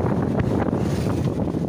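Storm wind gusts roaring and buffeting the microphone outdoors, a steady loud rush with low rumble throughout and no voices.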